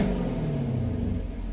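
New car's engine and exhaust in standard touring mode give a steady, fairly quiet low rumble at a constant idle or cruise, heard alone for a moment.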